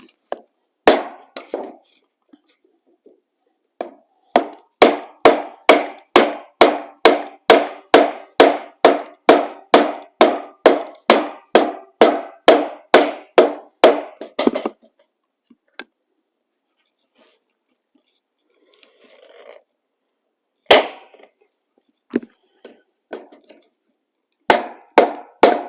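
Rapid series of sharp wooden knocks from a hammer on a wooden block against snaplock metal roofing, about two per second for fifteen seconds, then a pause and a few scattered final blows.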